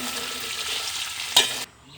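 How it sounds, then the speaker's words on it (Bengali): Fish frying in oil in a pan while a Bengali dish of mixed greens and fish is prepared, giving a steady broadband sizzle close by, then a brief stirring clatter before the hiss suddenly drops away to quiet near the end. "আমরা এখানে মাছ ভাজি করে নেব।"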